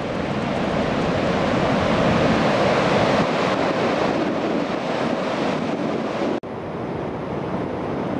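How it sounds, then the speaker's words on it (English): Steady, roaring surf at Manzanita with continuous broadband wash of breaking waves, a little wind rumble, and a brief dropout near the end. "These are the waves at Manzanita!"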